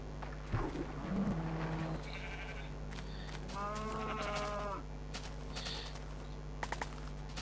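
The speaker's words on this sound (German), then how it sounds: "Da ist noch ein Schaf, ne?" Sheep bleating in the video game Minecraft, with a couple of short wavering bleats amid constant background hum and scattered game noises, moderately faint.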